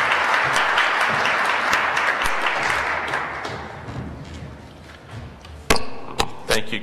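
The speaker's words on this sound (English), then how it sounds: "Let's all give the people involved a round of applause and thank them for their efforts." A large audience claps at a State Tribal Relations Day gathering, a broad wash of applause that gradually thins and fades, followed by a few sharp, loud knocks or thuds near the end.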